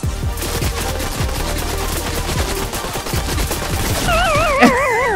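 Dense bursts of video game gunfire in Fortnite, rapid repeated shots crackling steadily throughout, loud and close, with a rising whine near the end and no talking.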